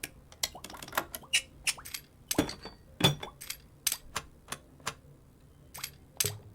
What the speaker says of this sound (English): Yeah, Rattly Bolt.